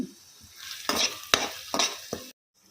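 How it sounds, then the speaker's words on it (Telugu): Onions and tomato puree for a milky mushroom curry fry in a pan, with four sharp stirring scrapes over a close, crackling sizzle that cuts out abruptly at the end. "టమాటా క్యూరీ కూడా వేసుకున్న తర్వాత కొంచెం వేయించుకోవాలి"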